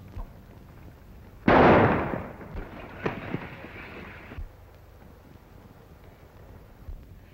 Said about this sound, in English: Shoot the gun out of his hand